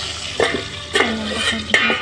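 Frying onions and spices in a pan in a home kitchen, heard as a low steady sizzle broken by a few sharp stirring scrapes and clinks about every second.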